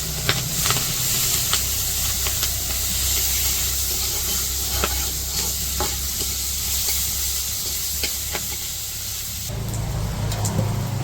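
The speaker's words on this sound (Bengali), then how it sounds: "তো পেঁয়াজ কাঁচামরিচ তো ভাইজা নিছি" Onions and green chilies sizzle in a village kitchen pan, a loud continuous hiss and crackle with occasional stirring knocks, close up, growing rougher and louder near the end.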